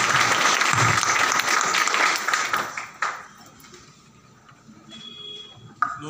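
Enthusiastic applause from an audience at a training event, loud and dense for about three seconds before fading out, followed by quieter room noise and a brief ping.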